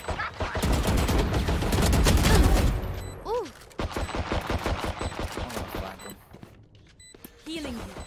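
Rapid gunfire in a Valorant match rattles in quick bursts, loud at first and then more scattered, while players talk over the shots.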